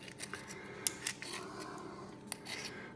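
Knife tip working into the hinge of an Island Creek oyster shell, faint scraping with a few small sharp clicks and pops as the shell is pried open, close and quiet.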